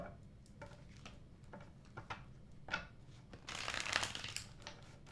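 Tarot cards being shuffled during a live reading, soft papery riffles and taps that build into a brief busier flurry near the end, quiet and close.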